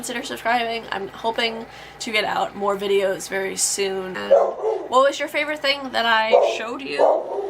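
A household dog barks and yips in short bursts behind someone talking steadily, the barks mixed under her voice rather than heard alone.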